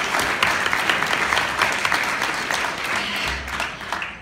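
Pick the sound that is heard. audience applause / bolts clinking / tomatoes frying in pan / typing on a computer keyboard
audience applause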